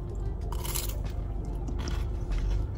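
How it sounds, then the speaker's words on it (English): Crispy spiced-pork Filipino lumpia spring roll crunches under close biting and chewing. A rapid series of crackly bursts rides over steady background noise, and nobody speaks. "Watch, listen to that crunch."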